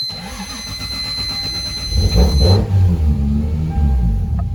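A big turbocharged Lexus GS300 engine cranks and catches, its loud low rumble swelling about two seconds in and then running roughly and steadily, close by with no talk.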